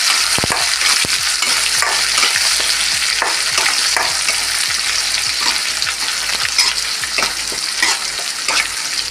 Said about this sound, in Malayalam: വേപ്പില്ല നന്നായിട്ട് വഴിക്കാം